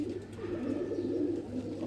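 A breeder pigeon coos steadily and close by, a low rolling murmur that continues without break through the whole moment.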